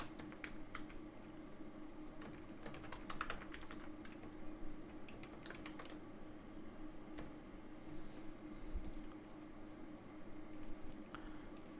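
Quiet, irregular keystrokes clicking on a computer keyboard, in short bursts with brief pauses, close and faint over a low background hum.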